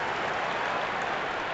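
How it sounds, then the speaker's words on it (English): Cricket crowd in the video game Cricket 26 cheering and applauding at a T20 World Cup match between India and Namibia in Delhi: a dense, steady wash of stadium applause, loud and even throughout, with no voices. "It's evident and ever so audible that the crowd is at near bursting point at today's play"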